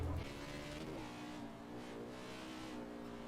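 Race car engine in the NASCAR 21 Ignition video game holds a steady, loud drone under throttle, with a brief low thump at the start and slight swells in pitch throughout.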